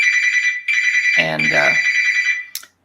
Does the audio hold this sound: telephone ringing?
yes